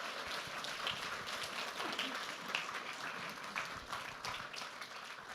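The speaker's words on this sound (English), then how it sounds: "So round of applause, please." Warm round of applause from the audience at a React London developer meetup, thanking the speakers; many hands clap continuously at moderate distance, fairly quiet overall, with a few louder individual claps standing out.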